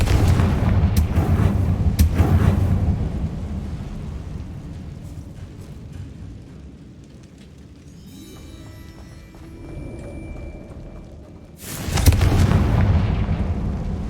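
A fiery Confringo explosion spell is cast in the Hogwarts Legacy video game, with loud booming blasts at the start and again near the end, and a lower rumbling stretch between them.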